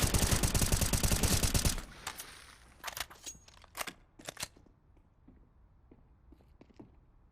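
Gunfire in a competitive esports shooter match, a rapid burst of automatic fire for about two seconds followed by several sharper single shots and bursts at varied distances, with faint background game sounds.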